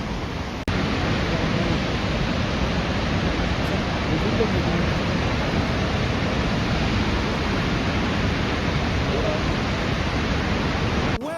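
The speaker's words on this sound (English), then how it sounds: "the Great Northern, the waterfall right there" A tall waterfall in Washington state, said to stand 100 feet higher than Niagara Falls, pours in a steady, dense roar that fills the whole span without a break, heard up close and loud.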